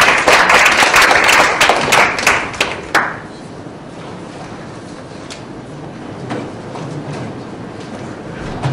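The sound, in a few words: audience applause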